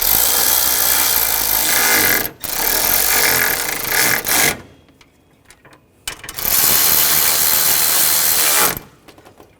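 Ratchet clicking while tightening intake runner bolts on a 2002-2006 Honda CR-V 2.4L four-cylinder, in three sustained close bursts of rapid pawl clicks separated by brief pauses, with no talk.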